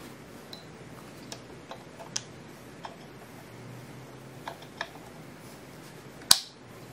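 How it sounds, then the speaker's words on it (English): Oil pump drive of an Audi R8 V8 engine during a rebuild, faint scattered metallic ticks and clicks over a quiet room, ending with one sharper, louder click. "You can hear the oil pump drive nicely in."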